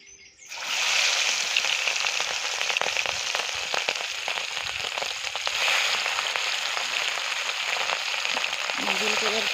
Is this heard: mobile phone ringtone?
no